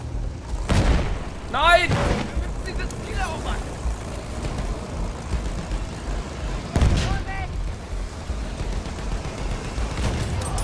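Rapid bursts of gunfire and heavy booms from a video game battle, with a loud blast near the start and another around the middle, while a player shouts excitedly over the action.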